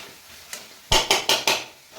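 A halim ladoo mixture is stirred in a pan over medium gas, with four quick, close scraping strokes in a row after a faint lead-in, the utensil knocking lightly against the pan.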